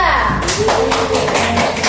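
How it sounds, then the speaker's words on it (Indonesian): A group of children in a classroom claps for a group of classmates, a short burst of rhythmic hand claps close by, mixed with voices. "Tepuk tangan untuk kelompok 2."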